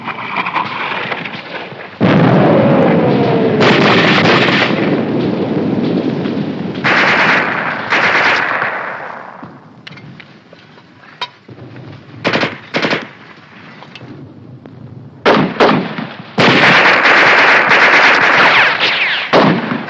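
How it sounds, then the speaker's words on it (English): A war-film battle with mortar and gunfire: loud bursts of rapid machine-gun fire and booming blasts alternate with quieter stretches, and rattling volleys return in several bursts. "Keep firing that mortar! Keep it going!"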